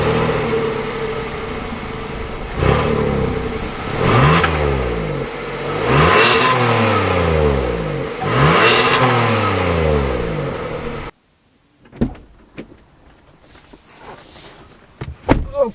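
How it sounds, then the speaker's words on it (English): A 2023 Kia Telluride SX Prestige X-Pro sets off and accelerates, its engine note rising in repeated sweeps over about eleven seconds, loud and close, before cutting to quieter cabin sounds and clicks. "setting off in the 2023 Kia Telluride"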